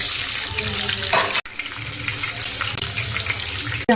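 Chopped shallots sizzling loudly in hot oil with fennel seeds for a chicken dish, a steady close hiss with a faint stir and a brief cut partway, no voices.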